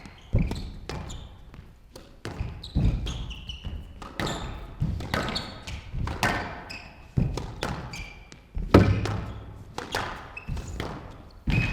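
Squash match rally in a professional tournament, with sharp ball strikes and wall thuds in a quick irregular rhythm echoing around the court, under occasional commentary.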